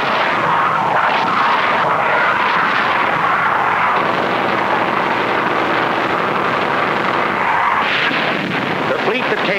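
World War II military aircraft roar overhead in Pacific war combat footage, a dense, continuous loud drone with rumbling blasts mixed in and a narrator talking over it.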